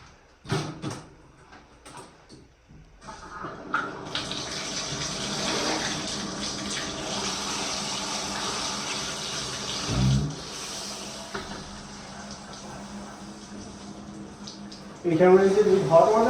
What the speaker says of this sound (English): You can rinse it with hot water or cold water,